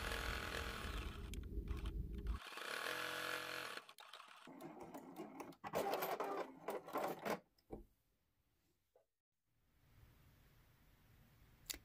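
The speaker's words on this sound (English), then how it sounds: "we're just going to do a straight stitch all the way around our mug rug in the binding" A sewing machine running a straight stitch around the binding of a fabric mug rug, with close whirring runs in bursts, brief stops and mechanical clicks, then a quiet hum at the end.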